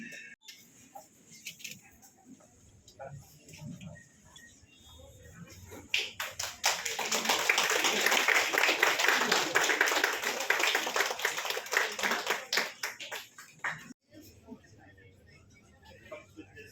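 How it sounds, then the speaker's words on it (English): An audience at a Hyundai EXTER 2023 car launch in Shillong breaks into loud sustained applause lasting several seconds, then tapering off with a few scattered claps, with a presenter talking before it. "Ladies and gentlemen, a round of applause, please."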